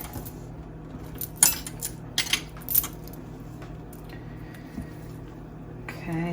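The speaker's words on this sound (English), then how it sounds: "So what we're going to do now is we're going to scrape down the bowl." A spatula scrapes and knocks around a mixing bowl of dense pound cake batter made with butter, sugar and eggs, giving scattered clinks and scuffs over a quiet kitchen hum.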